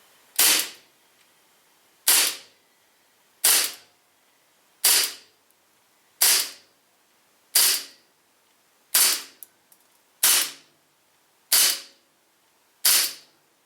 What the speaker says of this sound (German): Ich mache mal ein paar Schuss.